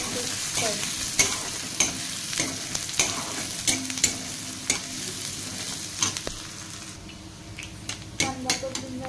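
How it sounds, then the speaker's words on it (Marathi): Chopped onion frying in hot oil in a pan, the base for Maggi noodles, with a steady close sizzle and repeated sharp clinks and scrapes of a spoon stirring against the pan. "कांदा आपल्याला 2 मिनिटं परतून घ्यायचा आहे।"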